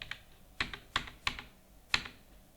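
A cheque number is typed on a computer keyboard in Tally Prime, five or six crisp, quiet key clicks at an uneven pace, close and alone.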